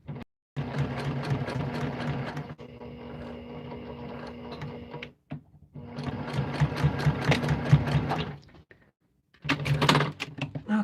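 A sewing machine stitches a Christmas sewing project in two long, steady runs of rapid mechanical chatter, separated by a quieter whirring stretch and a brief pause, followed by a short final burst of stitching, all close and fairly loud.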